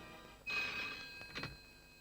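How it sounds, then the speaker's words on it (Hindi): A telephone rings once in a short, bright electronic trill, followed by a second brief burst, fairly quiet against a near-silent background. "सर, शिवानी, रतन ढोलकिया को फोन लगाओ"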